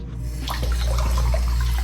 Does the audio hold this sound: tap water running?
yes